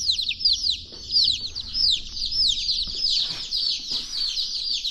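Young chicks on a homestead chirp and cheep continuously, a dense flock of high, rapid peeps close by, with faint rustling underneath and no voices.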